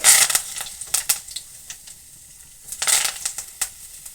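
Okra fries in oil with sharp, intermittent crackles and spatters in clusters, fairly close, between quieter gaps, with no talking.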